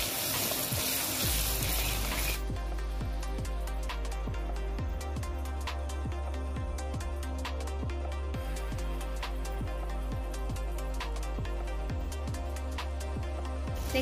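Yogurt going into cooked masala for dum aloo, with a steady close frying sizzle throughout and repeated scraping, tapping stirs of a spoon against the pan; no one talks.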